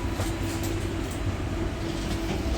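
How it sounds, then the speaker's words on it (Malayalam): Train slowing on arrival at KL Sentral in Kuala Lumpur, a steady low rumble of carriages on the rail heard from inside, with faint rattles and no speech. "ഇപ്പോൾ നമ്മുടെ ട്രെയിൻ ഏകദേശം നമ്മുടെ KL സെൻട്രലിൽ എത്താനായിട്ടുണ്ട്. നമ്മുടെ ട്രെയിന് സ്ലോ ആയിട്ടുണ്ട്."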